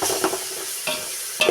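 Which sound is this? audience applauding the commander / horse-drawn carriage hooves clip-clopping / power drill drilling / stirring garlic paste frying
stirring garlic paste frying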